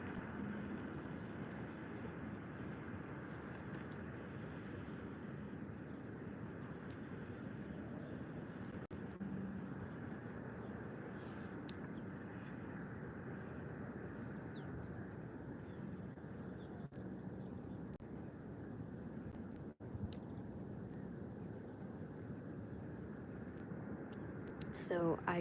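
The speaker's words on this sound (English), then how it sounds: "So Air Europa now going to Madrid, just started taxiing." An Air Europa Boeing 737-800 taxis at Málaga Airport, a faint, steady distant jet engine rumble and whine holding level throughout, alone without talk, a few small clicks near the end.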